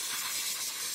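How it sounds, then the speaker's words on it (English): Compressed air blasts out of a nozzle to clean a Tekno EB48 2.0 RC buggy, a loud, close, continuous hiss lasting the whole moment without pause. "we're just gonna use compressed air and we're gonna blow this bad boy out"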